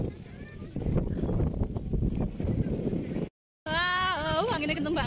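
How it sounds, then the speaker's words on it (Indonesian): Strong wind at the Taman Nyi Ageng Krakit park buffets the microphone in low, rumbling gusts, then a short dropout is followed by a high, warbling tonal sound. "anginnya kenceng banget"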